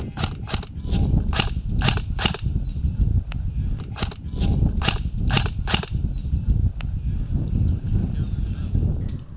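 Gunshots fired at distant enemies in the video game Sneak, near the end of a level: two bursts of sharp cracking shots in quick succession, several rapid pops each, over a steady background of game ambience.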